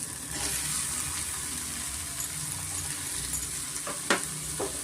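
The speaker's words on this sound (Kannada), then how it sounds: "ಮುಲ್ಲಂಗಿನ ಅಷ್ಟು ಚೆನ್ನಾಗಿ ನಾವು ಎಣ್ಣೆನೆಲ್ಲ ಫ್ರೈ ಮಾಡ್ಕೊಬೇಕಾಗುತ್ತೆ" Grated radish with onion and green chili sizzles steadily in hot oil over a medium flame, with a continuous loud frying hiss and a few faint clinks from stirring.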